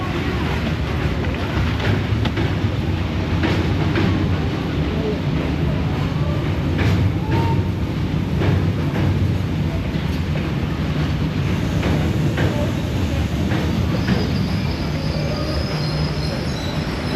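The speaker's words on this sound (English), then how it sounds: "train has arrived." A train pulling into a station in Vietnam, with wheels squealing and carriages rumbling in a loud, steady wash of rail noise that holds for the whole stretch.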